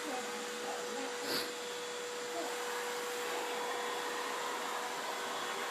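A vacuum cleaner runs steadily nearby, a constant loud whirring drone with a fixed whine, briefly bumped by a short louder surge near the start.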